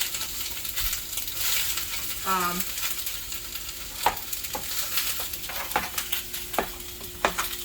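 Steady sizzling of food frying in a pan, with a few sharp clinks and taps of a utensil scattered throughout.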